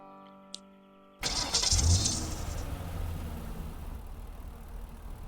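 An army vehicle engine cranks and catches with a sudden loud start, then settles into a steady rumbling idle close by, with a faint jingle of keys just before.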